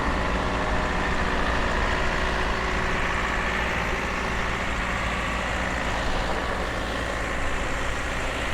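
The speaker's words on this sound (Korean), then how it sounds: "규모도 상당히 작은 트랙터예요." A small farm tractor engine runs steadily on a rural Oregon cornfield, a continuous low idling rumble with a constant drone and no speech.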